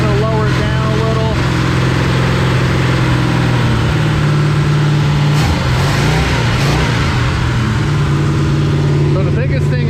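A freshly rebuilt car engine being broken in, held at high RPM around 2,200 to 2,600 with the revs varied: a loud, continuous, droning roar close by, pitch shifting slightly, with someone talking under it.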